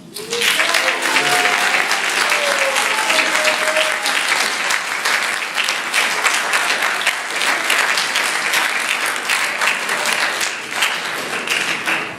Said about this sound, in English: We have one more round of applause